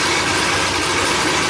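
A BMW F80 M3 engine idles steadily after a clutch repair, a continuous close, loud broadband rumble with no talking.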